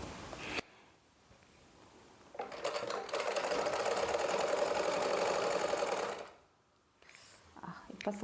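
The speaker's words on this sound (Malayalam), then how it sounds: "എന്നിട്ട് നമുക്ക് തയ്ച്ചെടുക്കാവേ." An electric sewing machine stitches a kitchen apron in a long fast run of several seconds, a loud even whirr that stops abruptly, with quieter handling sounds before and after.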